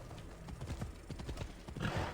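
Horse hooves clip-clopping in the video game Assassin's Creed Odyssey, a quick irregular run of close, moderately loud hoofbeats over about two seconds with no talk.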